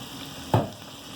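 Washed black-eyed peas tipped into a pot of browned beef for soup, landing with one brief sizzling splash and a short stir-like rustle, loud against a quiet background hum.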